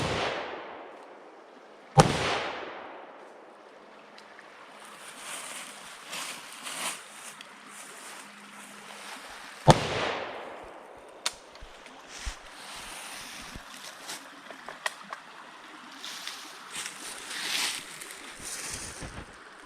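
Gunshots ring out at an outdoor shooting range: two sharp, loud reports about eight seconds apart, each with a lingering decay, followed by several fainter, smaller pops over a windy background.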